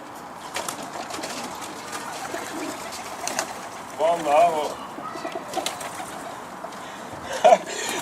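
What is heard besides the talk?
homing pigeon cooing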